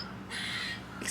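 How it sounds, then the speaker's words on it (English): A squirrel chirps loudly and harshly in a steady run of calls, close and insistent, with no voices over it. "This squirrel, do you hear him? I do. Very loud, chirping up a storm."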